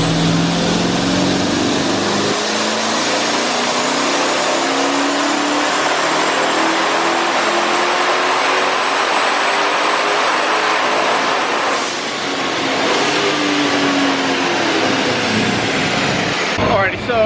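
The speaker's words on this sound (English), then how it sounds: "First dyno pull." A car's engine revs hard on a dyno, a loud sustained roar that climbs steadily in pitch over many seconds, with a brief dip before pulling again toward the end.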